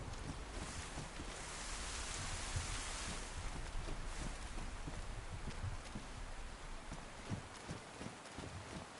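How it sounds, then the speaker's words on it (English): Steady rain falls during a storm in the DayZ survival game, a constant hissing wash with scattered sharp patters and drips, fairly soft and enveloping throughout, with no one talking. "Then again, it's hard to fucking hear anything in this rain."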